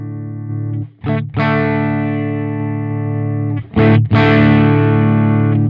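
Electric guitar through a Sonicake Matribox 2 amp model just beginning to break up, with gritty overdriven chords ringing long and loud, cut twice by brief pauses before strumming again, alone with no voices.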